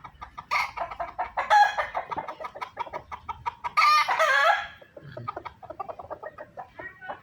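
Gamecock roosters of a Texas breed spar up close, with steady loud clucking and flapping punctuated by a sharp crow-like squawk partway through.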